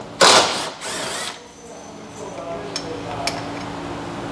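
A ratchet works a 10 mm bolt on a Lexus ES350 during a battery swap, giving a loud burst of rapid clicking followed by quieter, sparse ticks and clicks over a low hum.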